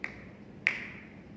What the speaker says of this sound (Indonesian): mendengar suara jentikan jari saya seperti ini